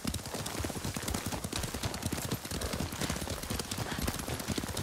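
Horse hooves pound in a fast, continuous clatter while riding in Ghost of Tsushima, a dense rhythmic gallop that stays steady throughout.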